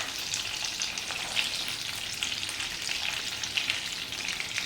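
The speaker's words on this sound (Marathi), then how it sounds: "तेलामध्ये ठेवायची आहे आणि दोन ते तीन मिनटं चांगली ते तेलामध्ये परतून घ्यायची आहे" Stuffed brinjals sizzle in hot oil, a continuous crackling and spitting fry with small pops scattered through it, close and steady without any talk.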